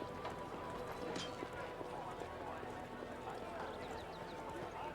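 A horse trots along in Pathfinder: Wrath of the Righteous, a faint, rhythmic clip-clop of hooves under ongoing talk.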